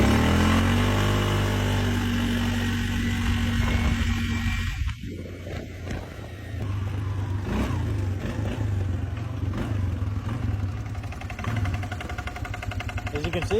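A turbocharged Polaris diesel utility vehicle drives in high range, its engine droning loud and steady with a brief dip partway through before pulling strongly again.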